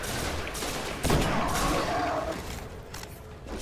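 Gunfire from the video game Destiny: The Taken King comes as a burst of sharp shots and impacts amid game effects, fairly close and loud, with no talking.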